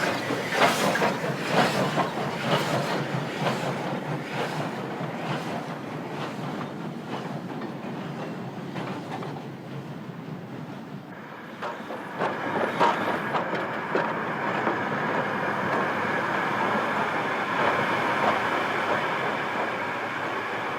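A train in Paraguay rumbles past close by, wheels clattering rhythmically on the rails, then fades into a steady hiss and distant rolling noise.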